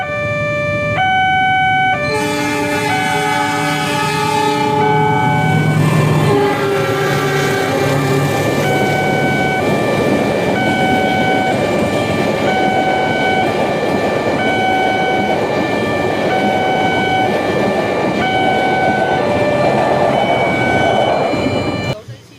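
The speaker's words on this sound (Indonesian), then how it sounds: "barusan adalah kereta api Sembrani dari Surabaya Pasar Turi tujuan akhir stasiun Gambir menggunakan lokomotif C6" The Sembrani passenger train, hauled by a C6 locomotive, passes close by a level crossing at Demak with a long, loud horn of layered tones ringing out over the steady roar of the rolling train.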